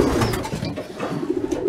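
A pigeon coos close by with soft, throaty rolling calls, repeated several times in a loft setting. There is no talking.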